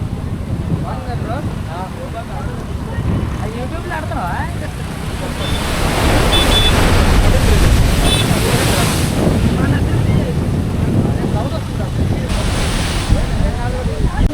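Sea waves surge over the rocks on Uppada beach near Kakinada and wash past the barrier, a loud continuous roar of surf that swells midway through. Heavy wind buffets the microphone, and faint voices can be heard beneath it.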